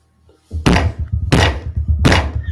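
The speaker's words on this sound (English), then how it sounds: "I don't just hear him banging on his desk" A fist bangs on a desk three times in a slow, evenly spaced rhythm, each blow a loud, close, wooden thump.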